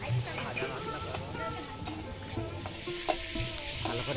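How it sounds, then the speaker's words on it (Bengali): Coriander seeds, black pepper, cumin and dried chillies dry-roast in a pan for a village rohu curry masala, giving a steady stirring scrape with light rattling and sizzle, close and continuous, with soft background sounds. "কটা ধনে, গোলমরিচ আর জিরে, শুকনো লঙ্কা ভেজে নিচ্ছি"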